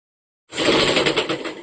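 Sewing machine stitching the neckline of a stylish short top, starting after a brief silence and then running as a steady, fast, close whirring chatter.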